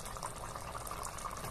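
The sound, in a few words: broth reducing as it simmers in a pan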